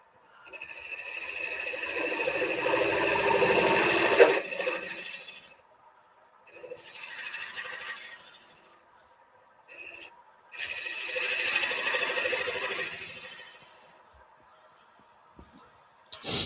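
A wood lathe turns an off-center workpiece while a tool cuts in and chamfers a small pad, giving three bursts of broad, hissing cutting noise separated by quieter gaps.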